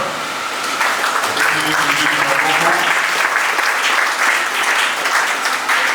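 A congregation claps at a Kinshasa memorial service, with dense, steady applause from many people that stays loud and continuous throughout, a few voices faintly mixed in.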